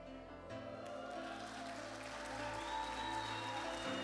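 Applause from a church congregation honouring two young missionaries, a steady wash of clapping that runs the whole clip without pause, close and fairly loud.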